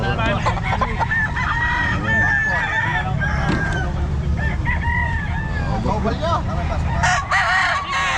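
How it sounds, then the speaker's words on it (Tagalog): Roosters and other fowl at a busy pet market in Calumpit crow and cluck repeatedly, several birds overlapping close by, with honking and crowd chatter in the background. "Ayun ang mga manok mo."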